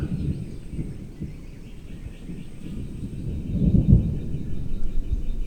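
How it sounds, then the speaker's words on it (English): Thunder heard from inside a timber house, a low deep rumble that swells toward the middle and lingers, with faint birdsong above it and no talk. "Oh, thunder."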